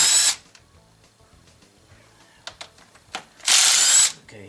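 A Milwaukee power tool works on a 1984 Chevy 6.2 engine, firing in two loud bursts at the start and near the end, with quieter clicks and mechanical clatter in between.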